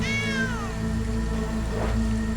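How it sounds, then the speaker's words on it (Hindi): A small kitten meows once, in a clear rising-then-falling cry near the start, over a steady music bed in a cartoon scene. "अरे ये तो छोटी सी बिल्ली है।"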